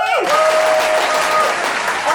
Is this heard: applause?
yes